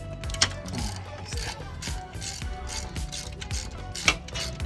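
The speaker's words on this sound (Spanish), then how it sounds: "Entonces encontré este otro nudo y esta extensión para poder aflojar ese tornillo." Socket ratchet with an extension loosening a bolt on a Honda Goldwing GL1800 motorcycle, giving repeated quick clicking pawl ratchets in short bursts close by, with a couple of sharper metallic knocks.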